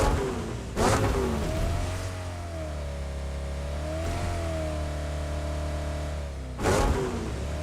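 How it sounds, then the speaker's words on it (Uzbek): Three cars in a video game, engines droning at a steady mid pitch with slight rises and falls in revs, passing nearby as a few brief bursts cut in, no talk. "Voy, bu 3 ta mashina"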